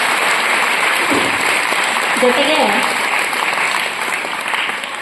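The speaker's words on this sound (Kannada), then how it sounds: "ತುಂಬ ಹೃದಯದ ಅಭಿನಂದನೆಗಳನ್ನು ಸಲ್ಲಿಸೋಣ ಜೋರಾದ ಚಪ್ಪಾಳೆಯ ಮೂಲಕ" A college audience gives loud, dense applause for a students' drama performance, clapping continuously for several seconds while a voice briefly speaks over it.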